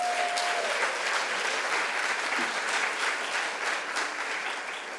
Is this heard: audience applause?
yes